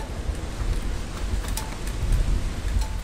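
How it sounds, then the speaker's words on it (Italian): Heavy rain pours down in a dense, continuous roar with gusty wind, loud and close throughout. "Sta diluviando."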